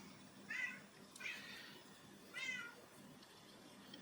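A pet cat meows indoors: three distinct, fairly faint meows spaced about a second apart over a quiet room background, no speech.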